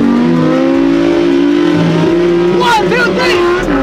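Lamborghini Huracan STO and Porsche 911 GT2 RS engines droning in a rolling race, rising revs and gear changes building over a few seconds, loud and close beneath a voice counting down.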